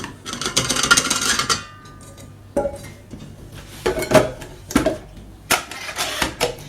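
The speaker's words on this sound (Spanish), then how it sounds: "vamos a comenzar batiendo las 2 claras con los 360 gramos de azúcar glass" Two egg whites are beaten with 360 grams of icing sugar in a bowl to make gum paste, producing close, rhythmic clinking and scraping strokes that pause briefly and resume.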